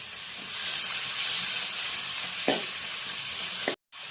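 Chopped onion, garlic and ginger sautéing in a pan for mushroom curry, a steady close sizzle with occasional stirring scrapes, cut off by a brief dropout near the end.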